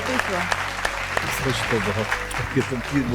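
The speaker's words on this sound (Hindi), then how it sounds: "इन दोनों के लिए बहुत सही ताली।" An audience applauds at a desi rap battle show while voices talk and call out over the clapping, with scattered sharp claps heard near and the crowd noise fairly loud.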